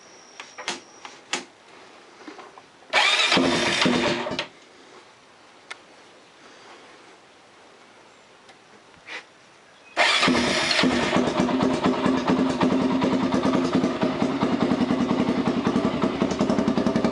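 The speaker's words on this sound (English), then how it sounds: "I'm going to start this up and let the engine warm up" A Honda 400EX ATV engine cranks for a brief burst, falls silent, then fires up and settles into a loud, steady idle close by as it warms up.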